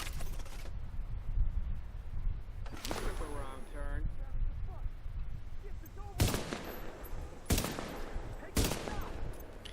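Gunfire in Tom Clancy's The Division, heard as a few sharp, loud shots spaced several seconds apart against game ambience, with a person talking between them.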